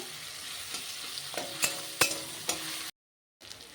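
Pumpkin fries with turmeric and salt in a pan: a quiet continuous sizzle with a few distinct clinks and scrapes of a spoon, then a brief cut to silence before the sizzle returns.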